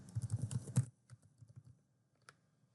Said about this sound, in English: So I'm going to type in my new password